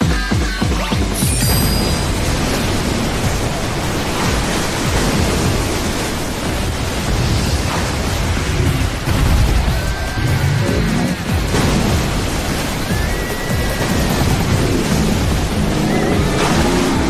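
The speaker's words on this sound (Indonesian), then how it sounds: "tiba-tiba aliran yang sangat dahsyat menghantam sang naga" A powerful water torrent slams into a fire dragon in an animated fantasy story, a loud, dense roar of rushing, crashing water that continues unbroken and close for the whole stretch.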